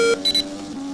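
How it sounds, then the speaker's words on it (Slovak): A racing video game sounds two short electronic beeps as DRS becomes available, over a steady car engine drone that continues alone afterward. "Počuli ste aj zvuky pípajúce."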